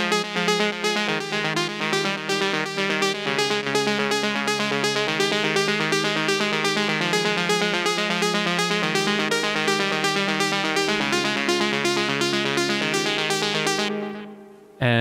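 Melody from an electronic track, a dense, steady synth line of rapid repeating notes over sustained harmony, loud and continuous with no talk, cutting off abruptly near the end.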